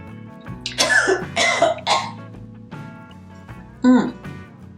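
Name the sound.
cough from inhaling makeup powder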